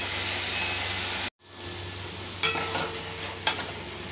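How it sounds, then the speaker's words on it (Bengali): Masala spices for a potato and pointed gourd curry fry in a pan with a steady hiss. It cuts out briefly, then resumes more softly with a few scraping stirs and clinks. "মশলাটাকে একটু কষিয়ে নেব।"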